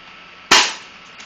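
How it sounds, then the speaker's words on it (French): The slide of a Tactical.45 pistol is pulled back and released, one sharp, loud, close metallic snap that rings briefly and fades in an otherwise quiet moment. "Enlevez le chargeur et secouez et tirez-le à fond."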